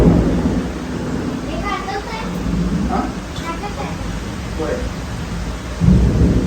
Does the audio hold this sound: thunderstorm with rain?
yes